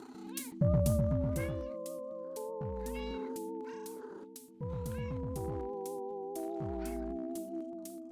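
Repeated synthetic meows over a bouncy electronic melody, the cat-like calls recurring in rhythm with the music.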